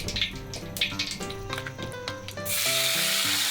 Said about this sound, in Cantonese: 兩面咧各大概係煎佢1分鐘到，等啲雞咧有金黃色